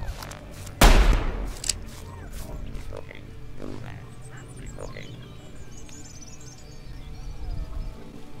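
A single loud, sharp shotgun blast goes off near the start in a horror video game, then game ambience and rumble continue beneath a talking player.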